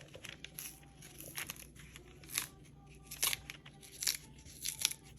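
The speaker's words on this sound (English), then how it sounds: "So my mom's going to start peeling the bananas" Green bananas are peeled by hand for Puerto Rican vegan pasteles, giving close, quiet bursts of crisp tearing and crinkling, irregular strips of peel snapping away in short scrapes against a hushed background, with no talk.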